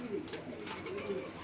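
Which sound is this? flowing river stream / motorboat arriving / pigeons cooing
pigeons cooing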